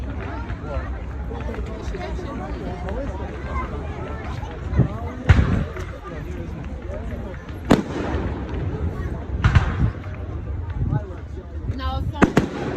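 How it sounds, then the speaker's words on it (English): Fireworks burst directly overhead in a series of sharp, irregular booms and crackles, while people talk nearby throughout. "It's right above me."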